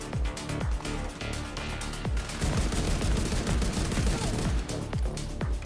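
A rifle fires on full auto in The Division 2, a loud continuous string of rapid, punchy shots with heavy low thump, roughly evenly paced with brief gaps between bursts.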